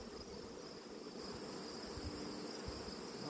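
A steady, close insect buzz hums continuously around a beehive in summer with no voices, consistent with many bees in flight.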